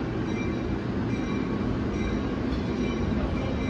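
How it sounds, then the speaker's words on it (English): A New Jersey commuter train rolls through Secaucus station, a loud continuous rumble of wheels on rails with faint squealing, steady and close throughout. "we're gonna wait for the next New York train"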